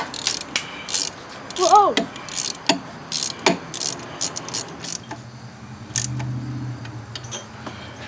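A hand ratchet clicks in quick repeated strokes while tightening engine mounting bolts on a 1999 Pontiac Grand Am with a 2.4L engine during timing chain work, close and sharp, with a brief exclamation from a voice partway through.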